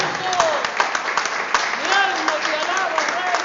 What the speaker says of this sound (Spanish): Dale un fuerte aplauso al Dios que vive.